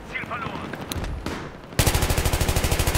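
Battlefield 3 gunfire in close-quarters indoor combat: scattered muffled shots and clatter give way to a loud, rapid, evenly spaced automatic burst that fills the second half, with no talking.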